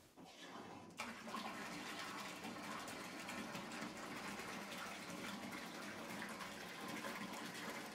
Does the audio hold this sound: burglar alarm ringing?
no